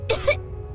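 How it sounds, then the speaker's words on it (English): A game character in Genshin Impact coughs twice in quick succession, short harsh bursts close up, followed by a quiet pause and the start of a third cough. "He kept coughing all the time, just like me."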